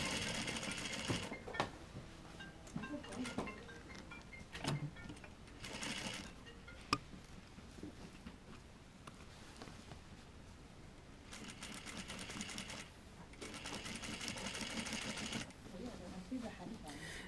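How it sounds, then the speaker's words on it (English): A sewing machine stay-stitching the collar edge of a jacket runs in several bursts of rapid mechanical stitching, broken by quieter pauses where a voice talks. "Okay, so now I can just sew."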